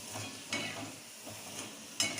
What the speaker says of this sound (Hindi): यहाँ पर मम्मी जी पोटैटो फ्राइज़ बना रहे हैं, और यहाँ पर वो उसको फ्राई कर रहे हैं